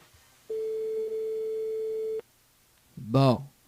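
A telephone busy signal on a radio call-in line: one steady tone holds for almost two seconds and breaks off, then after a pause a brief voice speaks.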